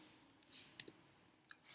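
A computer mouse clicks a few times while someone recolours shapes in Corel. The clicks are faint and crisp, with a close double click near the middle and one more just after, set against a quiet room.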